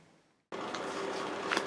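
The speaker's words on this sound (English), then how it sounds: "the noise you can hear in the background is we've got a couple of heater fans going" A couple of heater fans running in a workshop while a headless guitar is prepared for colour spraying: a steady broadband whoosh that starts abruptly after a short near-silence and continues evenly.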